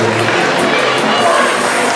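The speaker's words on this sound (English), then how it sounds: "Round of applause for Fry Girl" A live crowd cheers and applauds for an award winner at a season-finale show, a dense, steady roar of voices and clapping that fills the whole moment without a break.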